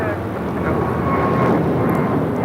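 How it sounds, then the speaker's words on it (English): An American Airlines Airbus A321neo taking off from LAX for Charlotte gives a loud, continuous engine roar that stays steady, with a faint voice present. "2596 taking off to Charlotte on an A321 Neo."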